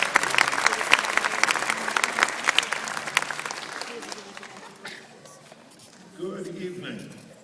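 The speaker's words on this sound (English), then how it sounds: "Please give a round of applause for Mr." Concert hall audience at a symphony performance of Peter and the Wolf applauds the narrator, clapping thick at first and fading over several seconds before a voice begins speaking.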